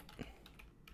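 Light typing on a computer keyboard: a brief run of faint, quick key clicks, close but quiet, with no voices.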